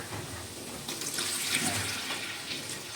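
Water from a tap runs into a cooking pot as a soft, steady hiss that swells slightly midway, faint and continuous.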